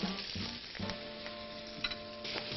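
Small pieces of seasoned flat pork rib fry in hot oil with a steady, close sizzle and crackle, punctuated by a few brief clatters as they are added and moved about in the pan.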